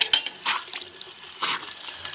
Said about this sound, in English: We have faucet. Okay, we got water.